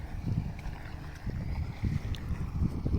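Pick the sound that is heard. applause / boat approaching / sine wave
boat approaching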